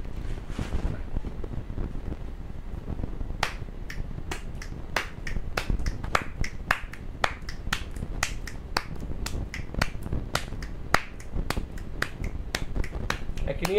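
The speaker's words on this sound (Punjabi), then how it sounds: "ਇੱਕ ਤੌੜੀ ਦੇ ਨਾਲ ਚੁਟਕੀ ਮਾਰ ਦਿਓ" An 81-year-old record holder from Punjab snaps his fingers rapidly. After a few quiet seconds, a long, close, even train of crisp snaps follows at a fast, steady pace over faint background wind.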